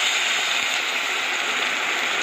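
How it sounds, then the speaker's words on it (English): Hot boiling water is poured into a pot of frying yellow lentils (dal) and vegetables, giving a steady loud hissing sizzle throughout. "I'm putting in hot boiling water."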